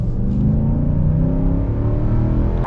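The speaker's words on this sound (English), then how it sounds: "Love the sound. Our full-blown acceleration here." A pickup truck's engine, either a 2021 Ram Rebel or a 2021 Nissan Titan Pro-4X, at full acceleration: a loud, steady low roar heard from inside the cab, holding strong throughout with no talk.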